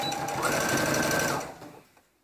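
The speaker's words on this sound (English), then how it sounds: "I'm going to insert this seam here into my sewing machine" Home sewing machine stitching a 5/8 inch seam on a jumpsuit, a steady close motor whir that rises in speed partway through, then winds down and stops.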